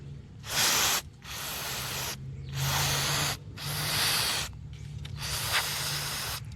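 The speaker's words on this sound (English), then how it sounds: "You get some contact cleaner and blow that out a little bit." Contact cleaner sprayed into the carburetor of a Little Wonder hedge trimmer with a Briggs & Stratton Vanguard engine: five close, loud hissing bursts of about a second each with short pauses between.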